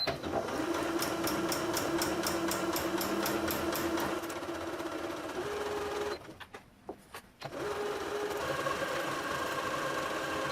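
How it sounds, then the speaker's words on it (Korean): Sewing machine stitching cotton cloth with a guide foot, a fast steady mechanical whir and rapid needle chatter that pauses briefly near the end, then resumes. "가이드 노루발 활용해서 창구멍 제외하고 나머지를 1cm 간격으로 봉제해 볼게요"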